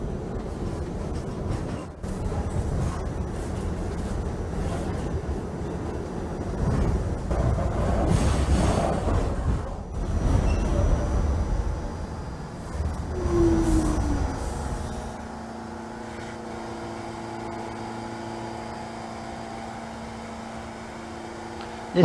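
A simulated Queensbound New York City subway N train in a train-simulator game: a loud, continuous rumble of the running train that eases midway into a quieter, steady tonal hum.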